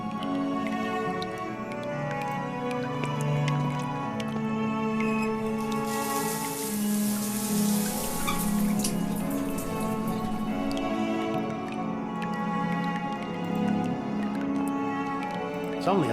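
Water runs steadily from a tap in a shower room in the video game The Last Door, a continuous patter and trickle under a sustained tonal music bed.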